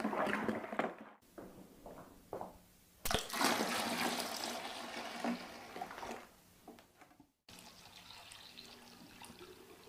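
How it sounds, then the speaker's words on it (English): Cold tap water runs into a plastic home brew bucket while a Young's American IPA kit is topped up to 23 litres, a splashing, gurgling pour that starts and stops in several bursts; no voices. "now we can top the bucket up with cold water to the 23 litre level, or 40 pints"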